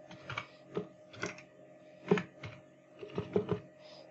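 Keys tapped on a computer keyboard while entering a first name in a registration form, with a dozen or so separate, fairly close clicks in an uneven typing rhythm and no talk.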